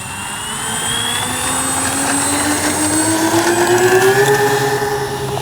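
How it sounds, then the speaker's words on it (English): RC B-25J warbird model plane's twin engines at full power for takeoff, a loud steady drone whose pitch rises gradually, with layered whining harmonics and no talk. "One more takeoff and landing."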